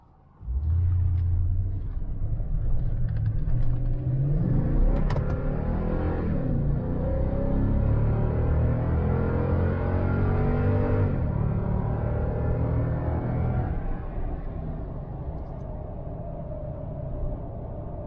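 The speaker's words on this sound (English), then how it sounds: "See how it feels shifting through everything." A car accelerates hard on a test drive, its engine rising and dropping in pitch as it shifts up through the gears, a loud continuous rumble heard from inside the cabin.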